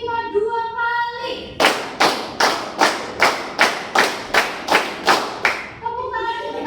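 A university classroom of students clapping hands in a steady rhythm: about eleven sharp, evenly spaced claps close by, with a lecturer's voice before and after.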